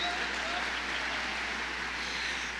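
Sustained audience applause for an honoree, a thick continuous wash of many hands clapping at even volume, with a faint voice briefly over it.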